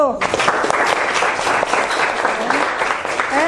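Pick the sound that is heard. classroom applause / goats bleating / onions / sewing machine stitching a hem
classroom applause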